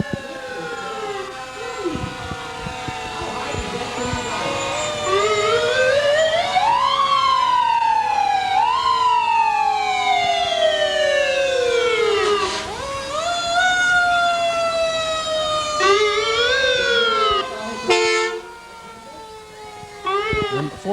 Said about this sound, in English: our next Elburn fire truck arrives